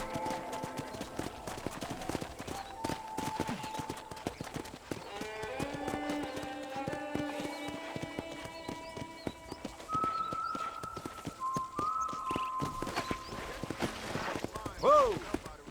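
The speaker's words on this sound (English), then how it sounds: "I picked out a fine horse for you." Steady rhythmic clip-clop of horse hooves in the video game Red Dead Redemption, under a soft musical background, with a voice speaking over it.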